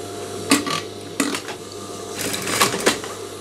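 A sewing machine stitches a trouser waistband with an elastic back, giving several short bursts of rapid mechanical whirring separated by pauses, close and clear over a faint steady hum.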